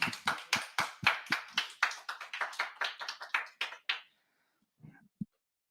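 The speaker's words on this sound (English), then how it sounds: "please give them a big round of applause" A small audience at a Japanese tech talk event claps in quick, evenly spaced strokes for about four seconds, then falls silent except for a couple of faint knocks.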